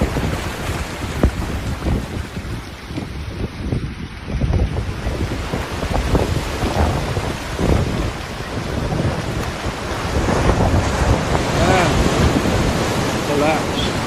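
Big ocean waves crash during extreme weather at Gili Air, with heavy wind buffeting the microphone and continuous roaring surf, loud and close throughout.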